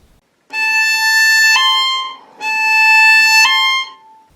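Two bowed violin notes, each with a sudden bright ringing shift partway through as a finger lands on the string, clear and close with no talking.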